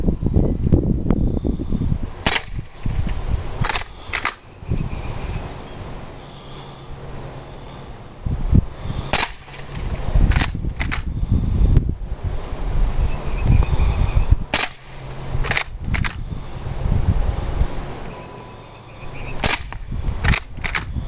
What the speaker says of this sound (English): I'm just shooting fast, so I'm not expecting to have a really good grouping